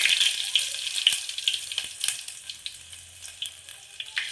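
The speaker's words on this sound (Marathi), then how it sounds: "तेल मस्त कडकडीत गरम झालं आहे. आता मी लसूण घालून घेते ह्याच्यामध्ये." Garlic dropped into very hot oil for tempering lentil dal with drumsticks, giving a bright, steady hiss and crackle with small scattered pops, close and moderately loud.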